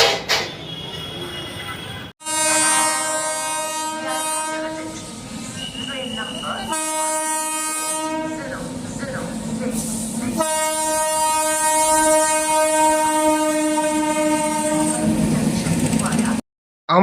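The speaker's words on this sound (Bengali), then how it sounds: "আর এবারে রাত্রির 1:50-এ ট্রেন ঢুকলো ভোর 3:50-এ।" A passenger train pulls into a station at night, its loud horn blaring in long sustained blasts over rumbling wheels and clattering carriages, then cutting off abruptly.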